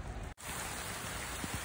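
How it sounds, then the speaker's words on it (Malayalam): Heavy rain pours onto a steep hillside, a dense, steady hiss of drops close by with no voices, briefly cut by a momentary dropout. "മഴയും പെയ്യുന്നുണ്ട്. അയ്യോ ഫുള്ള് മഴ പെയ്തു."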